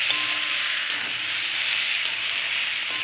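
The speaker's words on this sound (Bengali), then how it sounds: "মশলা দিয়ে এইবার আমি কষিয়ে নেব একটু" Spices are sautéed in oil for a rohu fish and taro curry, with a steady, close frying sizzle and faint stirring scrapes throughout.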